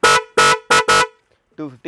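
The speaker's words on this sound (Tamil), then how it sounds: "நெக்ஸ்ட் பார்த்தீங்கன்னா ஜாகுவார் ஹாரன் இருக்கு 250" An aftermarket Jaguar-style horn for a car or bike sounds four sharp, loud, close blasts in quick succession, followed by a brief burst of speech.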